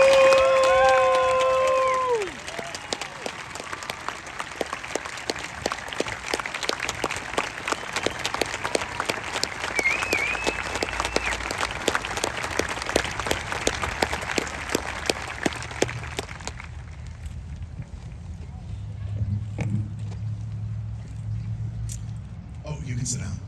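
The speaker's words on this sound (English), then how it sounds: "Please give these brave young men and women a round of applause." An audience at a high school class of 2022 graduation ceremony bursts into loud, sustained clapping for about fifteen seconds, then it fades to a low crowd murmur. A brief voice and tone come before it.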